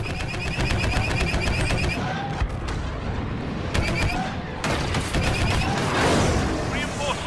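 Star Wars Battlefront 2 blaster gunfire rattles in rapid bursts, dense and mechanical, amid a busy battle mix with brief drops and returns of the firing.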